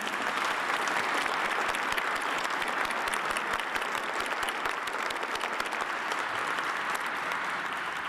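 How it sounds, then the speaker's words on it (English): A large audience at the State of the NYPD address gives a round of applause for a detective; steady, even clapping from many hands fills the whole stretch at a moderate, slightly distant level. "Please join me in a round of applause to her."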